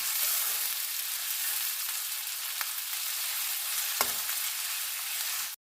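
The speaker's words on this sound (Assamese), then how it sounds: "পিঁয়াজখিনি মই ৰঙচুৱা হোৱালৈকে ভাজি ল'ম" Finely chopped onions sizzle steadily in hot oil in a pan, a continuous close crackle with a couple of light utensil knocks and no talking.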